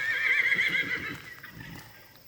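A domesticated horse whinnies loudly and close by in a long, shrill neigh that wavers and then fades. A few soft hoof-like thuds come through underneath, and no one talks.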